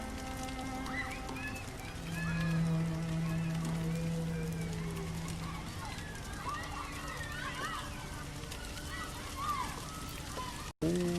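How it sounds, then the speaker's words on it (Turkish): Steady rain patters throughout, with voices and some tonal sounds over it. "Yağmur da hızlandı."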